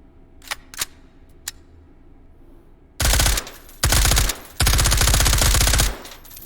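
A 300 Blackout MCX Rattler build fitted with a LaRue part fires in a video game mod. A few sharp clicks come first, then three loud, rapid automatic bursts with short gaps between them.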